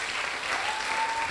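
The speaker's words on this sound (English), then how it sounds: "Give a round of applause for Mr. Sean Clark." Audience applause at a school programme relaunch ceremony, a steady, even wash of clapping from a crowd, moderately loud and continuous through the short stretch.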